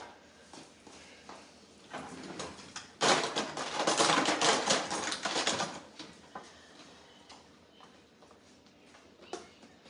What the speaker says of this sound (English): So I'm going to pour these potatoes up.